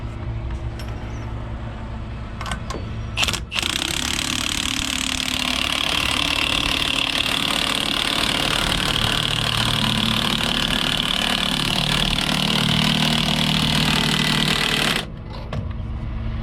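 An International 9200 grain tender truck idles with a steady, loud engine rumble that holds for about eleven seconds, framed by brief clunks and quieter stretches at the start and end.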